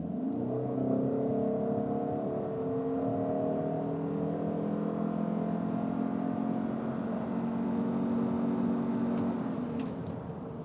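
A Ford Maverick Hybrid pickup pulls away in L mode, its drivetrain giving a steady rising whir and hum that holds at moderate level and fades slightly near the end, with no talk.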